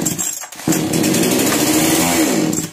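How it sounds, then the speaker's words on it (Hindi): A petrol chainsaw engine, with fuel just poured into the cylinder, catches and runs loud and steady with a buzzing roar after a brief quiet start. "सिलेंडर में पेट्रोल डालने के बाद मशीन स्टार्ट होकर बंद हो गया है"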